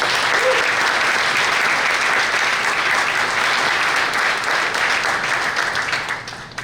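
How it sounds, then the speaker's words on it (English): A crowd at a scholarship fundraising evening gives dense, sustained applause, loud and even throughout before tapering slightly at the very end. "so give yourselves a round of applause."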